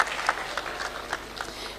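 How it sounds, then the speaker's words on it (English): Applause from a conference audience at a Ghana SDGs advisory event: brief, steady clapping from a modest crowd in a room, moderately loud, with no voices over it. "A round of applause for yourselves once again."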